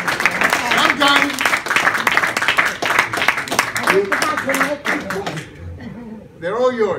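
A crowd claps and applauds continuously with some chuckling mixed in, under a speaking voice, thinning out near the end before more talk resumes.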